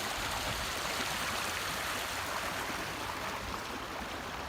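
Dry Creek flowing through the middle of a field between two ridges in Georgia's Ridge and Valley country, a steady broadband rush of water that stays even and unbroken throughout, with no voices.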